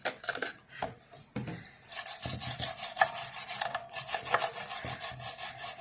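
Grime is wiped off a guitar's tremolo body with rhythmic, close rubbing strokes during a string change. Rasping swipes repeat quickly with a few short pauses between them.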